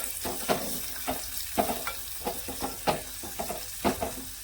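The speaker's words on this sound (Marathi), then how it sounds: "कांदा आहे ना आपण जरा परतून घेऊया" Chopped onion sautéing in a pan for a Satara-style dry prawn and potato dish, with a steady soft sizzle broken by repeated scraping strokes of a spatula stirring the pieces, close and moderately loud with no talking.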